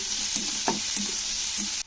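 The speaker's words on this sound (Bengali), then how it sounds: "তারপরে দিয়ে দেব পেঁয়াজ ও পেঁয়াজটাকে কিন্তু একেবারে ব্রাউন করে ভেজে নেবে" Onions, with garlic, frying in a pan until brown: a steady, close sizzling hiss with a few soft stirring scrapes, no voices.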